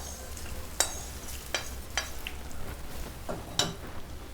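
Hot tempering is poured into mango carrot pickle and stirred in, with faint sizzling and a few sharp scrapes and clinks of a spoon against the vessel.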